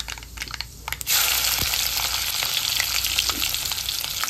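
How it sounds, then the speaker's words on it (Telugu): Onion and green chillies sizzle as they drop into hot oil in a home kitchen pan, a quiet start giving way to a loud, steady frying hiss that fills the rest of the moment with no voices. "సో ఇప్పుడైతే ఒక ఉల్లిపాయ, ఒక 2 మిర్చి కట్ చేసేసుకొని వేసుకోవాలి"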